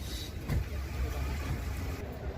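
Steady low rumble of a 2000 Opel Zafira's 1.8-litre gas-petrol engine running at a used car market in Khujand, continuous and fairly close, with voices talking over it.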